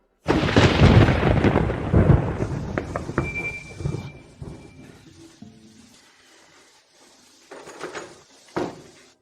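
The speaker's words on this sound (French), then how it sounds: "C'est juste un peu de pluie et de tonnerre, rien à craindre." A loud crack and rumble of thunder opens with heavy rain, then the roar fades over several seconds into quieter patter, with a few softer knocks near the end.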